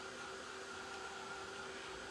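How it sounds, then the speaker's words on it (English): A hair dryer blows steadily on a craft block, a continuous airy whir with a faint motor hum, constant and unbroken, no talking. "let's hit this with the dryer."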